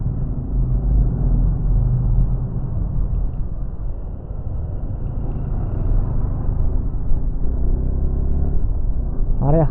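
A bus and other traffic rumble steadily along a highway, a close, continuous low engine drone with road noise that never lets up, ending in a brief horn-like tone.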